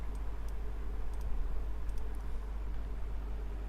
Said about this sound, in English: You may hearing my mouse clicking sound.